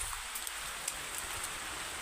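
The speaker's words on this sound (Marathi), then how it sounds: "आता पाऊस आला" Steady rain falls outdoors near a mahua tree, a dense, even hiss with no pauses, close and moderately loud, with no voices.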